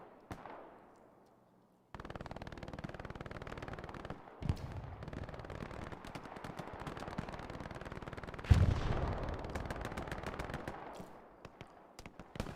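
Artillery and gunfire in Hell Let Loose on the Sainte-Mère-Église map: a steady rumble of distant shelling with scattered sharp gunshots and one heavier nearby blast, continuing throughout with no speech.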